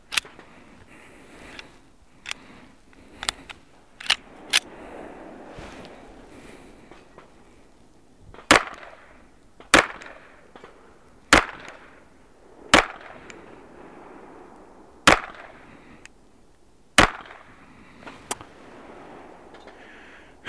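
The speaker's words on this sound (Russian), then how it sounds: "Шесть выстрелов на 10 метрах." A TK 1911 T less-lethal pistol fired at a 10-meter range, sharp, loud cracks spaced irregularly across the clip, with quiet gaps and faint room noise between shots.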